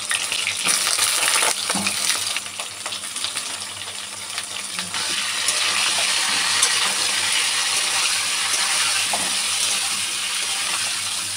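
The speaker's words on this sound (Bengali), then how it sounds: "তো চলো এখন পটলগুলোকে লাল লাল করে ভেজে নিই।" Slices of pointed gourd fry in oil in a pan with a steady, close sizzle, and occasional clinks and scrapes of stirring break through it.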